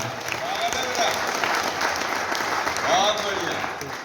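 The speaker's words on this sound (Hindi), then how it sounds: "मैं चाहता हूं पूरा सदन उन लोगों के सम्मान में पहले तो एक बार जोरदार तालियां बजाए" Audience applause at the 102nd annual meeting of Shri Jharia Dhanbad cow shelter in Bastakola, a steady, dense clapping that holds for about four seconds with crowd murmur mixed in.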